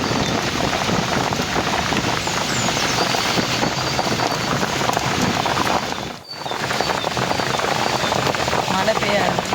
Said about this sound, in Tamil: மழை பெய்ய